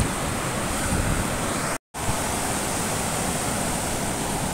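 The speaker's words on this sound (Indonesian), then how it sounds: "Ini pantai selatan masih ikut kawasan Blitar, yaitu pantai Pasur Padi." Surf breaking steadily on Pasur beach, a south-coast Indonesian shore near Blitar, a loud continuous roar of waves with a brief dropout partway through and no voices.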